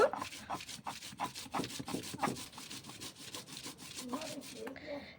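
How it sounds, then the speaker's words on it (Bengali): Grated coconut being ground by hand on a stone shil-nora grinding slab, a repeated rough scraping and rubbing in back-and-forth strokes close up, fairly quiet, ending in a brief pause. "নারকেলগুলো সব কুড়িয়ে নিয়েছি এবার শিলনোড়াতে একটু বেটে নেব"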